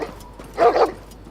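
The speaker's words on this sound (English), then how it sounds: "This brigand let his dogs loose on the night's watch." A dog in a Game of Thrones video game, set loose by a brigand against the Night's Watch, gives a short burst of barking and yelping mid-clip against quiet game background.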